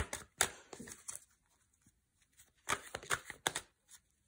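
Oracle cards are shuffled by hand for a divination reading, giving bursts of dry riffling and slapping that come in two clusters separated by a quiet pause, close and fairly soft.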